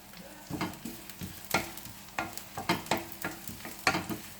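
Seitan browns in a frying pan, a soft sizzle under a run of sharp stirring scrapes and taps, about a dozen strokes in uneven rhythm, close and fairly quiet.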